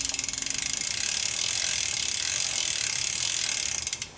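A bicycle freewheel clicks in a rapid, steady ratchet as the chain is back-pedaled during a degreaser clean, the close clicking sitting under a continuous bright hiss until it slows and stops at the end.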